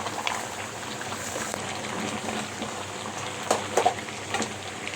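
Mutton curry with onion bubbles in a pot, a soft continuous simmer with scattered pops and crackles close by, with no talking.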